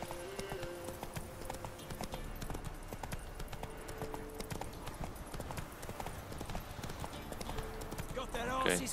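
Roach, Geralt's horse in The Witcher 3, trots along with a steady rhythmic clip-clop of hooves through the whole stretch, while someone talks over the gameplay.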